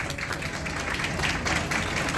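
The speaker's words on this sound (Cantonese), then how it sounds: "現在先請大家用熱烈嘅掌聲，俾我哋今日嘅男主角新郎哥可以起立" Guests at a Cantonese wedding banquet applaud the groom, a fairly soft but continuous patter of many hands clapping with no speech over it.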